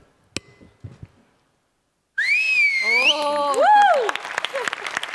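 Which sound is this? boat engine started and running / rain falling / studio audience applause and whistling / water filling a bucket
studio audience applause and whistling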